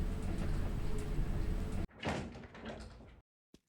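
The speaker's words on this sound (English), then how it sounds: "A door." A door in the video game Fractal opens with a heavy mechanical slide and thud after a loud steady hum cuts out, followed by a trailing rumble and one faint click at the end.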